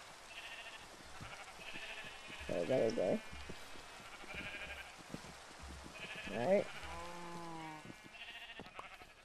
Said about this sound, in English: I'll have to kill this sheep.